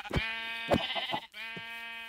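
Sheep bleating in the video game SpriWorld, a few wavering, nasal bleats in quick succession, close and clear with no talking.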